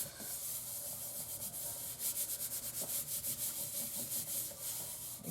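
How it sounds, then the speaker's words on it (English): Paper card being rubbed down flat onto glue by hand, a close, continuous brushing friction that settles into a fast regular back-and-forth rhythm, with no voices. "I'm going to flip it over. Just so I'm able to go in there and give it a good rub."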